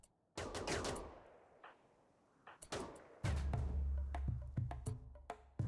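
Gunfire in RimWorld, sharp rapid shots in bursts and scattered single cracks, close and loud, with low thuds in the later part.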